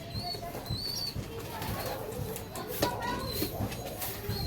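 Homing pigeons coo and flutter their wings close by, with faint chirps in the background and people talking over them.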